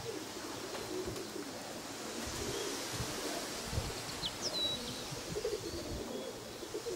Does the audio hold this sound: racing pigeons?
yes